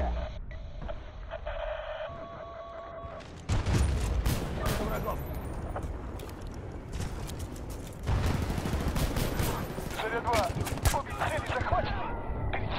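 Gunfire in the video game Battlefield Bad Company 2 during a multiplayer match, with dense bursts and sharp shots starting a few seconds in and continuing among game noise and voices.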